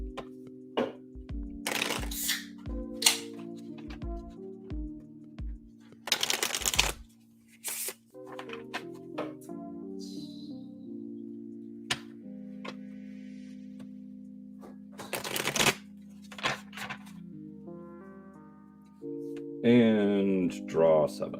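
Shadowrun Edgezone game cards being shuffled by hand: several bursts of quick riffling and fanning, close and crisp, spaced out between stretches of low background hum with occasional light handling clicks.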